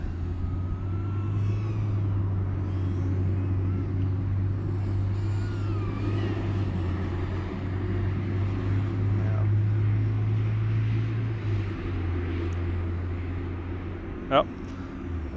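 A steady motor drone from an LDARC ET115 V2 FPV drone in flight hums continuously for several seconds, with a faint high whine and a brief sharp click near the end.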